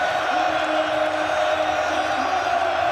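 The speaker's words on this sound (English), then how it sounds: "The biggest cheer on the podium for the Norwegian" A large stadium crowd roars in sustained cheering for a Norwegian Manchester City player on the trophy podium at a Premier League title celebration, a broad steady wash of distant voices with no breaks.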